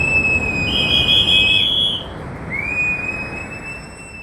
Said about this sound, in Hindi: आप ध्यान से अगर सुनेंगे तो इस वीडियो में आपको लोग सीटी बजाते हुए नजर आ रहे हैं